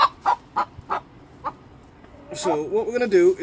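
A hen clucks in short, regular bursts, then gives a longer wavering call as she is being handled for flight-feather clipping, while someone talks over it.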